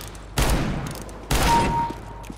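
Two loud, close gunshot blasts from Counter-Strike: Global Offensive, likely the R8 revolver or AWP, each with a long ringing decay, spaced about a second apart with no talk.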